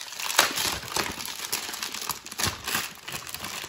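Plastic wrapping around a 1-litre bottle of light blue Elegoo 3D-printer resin is pulled open, giving a close, continuous crinkling with several sharper crackling bursts and no speech.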